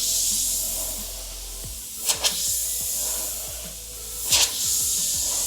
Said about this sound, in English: So it's spraying nice and smooth.